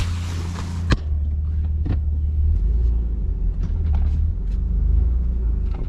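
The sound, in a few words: turbo Nissan 300ZX car being driven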